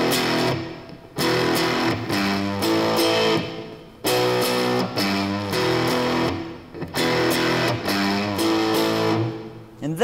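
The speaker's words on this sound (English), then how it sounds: "it's a classic, classic rock lick" Distorted electric guitar plays a classic rock riff in repeated phrases, loud and close, with brief gaps between each repetition and no talk over it.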